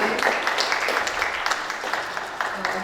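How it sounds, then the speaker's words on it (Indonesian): Audience applause for a guest from Surakarta, an academic of performing arts, at a karawitan panel event; steady, moderately loud clapping from a modest crowd throughout, with faint voices underneath. "kita beri tepuk tangan"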